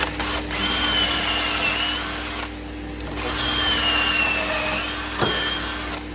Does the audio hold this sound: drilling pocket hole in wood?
yes